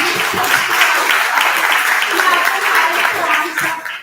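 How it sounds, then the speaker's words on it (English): A steady burst of group applause, many hands clapping densely at once, loud and sustained for a few seconds before tapering off at the end. "Let's clap"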